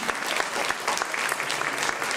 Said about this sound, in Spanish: un fuerte aplauso a Dios por esa bendición.